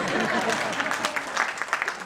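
Audience applause at a live stage program, a dense steady patter of many hands clapping at moderate distance, with a faint voice underneath.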